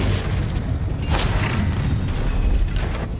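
Confringo fire spell explosion in the video game Hogwarts Legacy, a dense, continuous rumbling blast with crackling and booming texture filling the whole moment at close, loud level.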